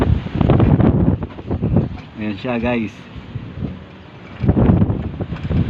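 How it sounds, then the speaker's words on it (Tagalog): Strong wind buffets the microphone with low rumbling gusts, loudest at the start and end, while people talk over it. "Medyo malakas ang hangin."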